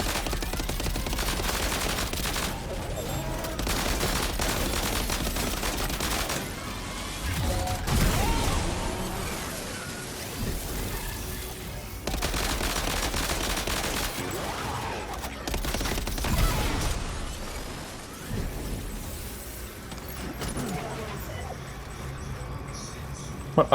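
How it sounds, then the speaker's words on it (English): Gunfire in Death Stranding 2 rattles in long, loud, dense stretches with mechanical clatter, continuing almost without pause while someone talks over it. "I just shoot these things."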